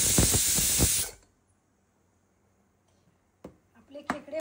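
A pressure cooker whistles over crab masala on a gas stove: one loud steamy hiss lasting about a second that cuts off abruptly, then near silence broken by a few faint clicks.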